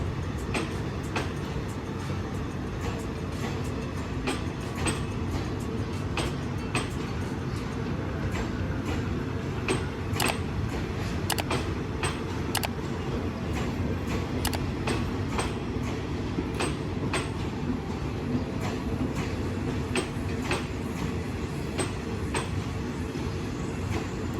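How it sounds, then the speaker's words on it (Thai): A long Thai passenger train rolls steadily through Bangkok's Hua Lamphong station, giving a continuous loud rumble with rhythmic wheel clicks over rail joints throughout. "ยาวยังกับขบวนรถเร็วเลยทีเดียวนะครับ แต่ จอด ทุกป้ายนะครับ เป็นขบวนรถธนาที่ จอด ทุกป้าย ยาวมาก ๆ เลย"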